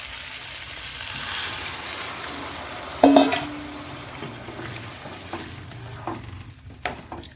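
Water splashes into a hot frying pan of sweetened paneer, setting off a sudden loud sizzle. A steady frying hiss follows, with occasional stirring clatter near the end.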